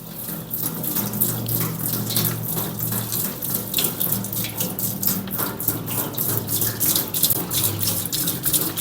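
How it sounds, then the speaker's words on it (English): A solvent mixture pours into a 20-gallon parts washer tank in a steady, loud gushing splash that runs continuously without pause. "So we'll go ahead and start pouring this in like so."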